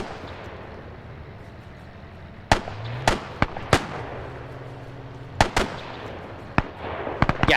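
Grenade blasts in a World War II shooter game, a string of sharp, loud cracking detonations spaced unevenly over a low background rumble, ending in a quicker cluster of bangs.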